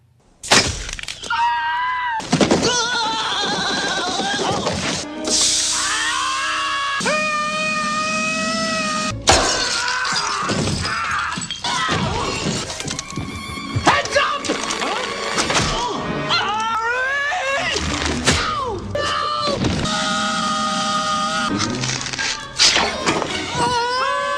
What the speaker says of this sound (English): That's the best bad guy scream ever.